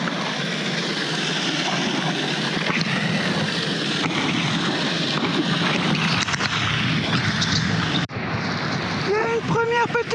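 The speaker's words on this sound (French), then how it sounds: "Une première petite cascade." Small waterfall in a canyon, a steady broad rush of falling water with wind buffeting, loud and continuous throughout.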